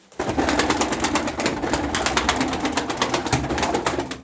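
Pigeons in a home coop coo and flutter close by, a steady dense chorus of birds with busy rustling throughout and no speech.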